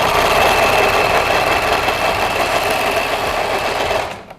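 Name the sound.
overlock serger sewing fabric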